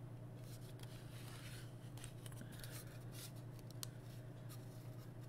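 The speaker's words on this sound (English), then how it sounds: "when you crank on it, that wheel comes up and starts to cut the can" A manual crank can opener bites into a metal can. A steady, faint grinding rasp runs continuously, with small clicks from the turning cutting wheel.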